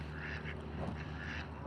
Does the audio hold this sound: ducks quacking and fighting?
yes